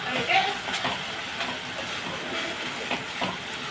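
Two spoons of chili powder hit a hot pan of onions for an egg and tomato curry, giving a steady broadband sizzling hiss with a few faint clinks and background murmur throughout.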